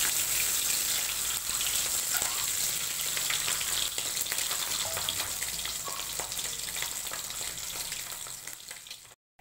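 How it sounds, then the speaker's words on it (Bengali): Eggs and potatoes fry in a pan with a dense, continuous crackling sizzle and occasional sputtering pops, loud and close, cutting off abruptly at the end. "ডিমটা ভেজে নেব, আলুগুলো ভেজে নেব"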